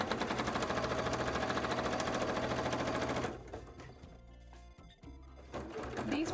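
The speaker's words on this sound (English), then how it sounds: "Let's start sewing around them." A sewing machine stitches pinned cosplay fabric for a contest entry, running as a fast steady close whir for about three seconds before stopping, then a few handling knocks and a brief restart.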